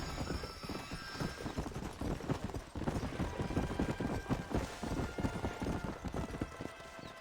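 Horse hooves clip-clop steadily in the Red Dead Redemption video game, a dense, continuous run of close, rhythmic footfalls from a slow horse with poor stamina, with an occasional faint whinny.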